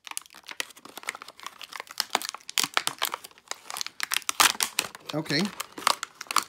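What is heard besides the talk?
ripping open light bulb packaging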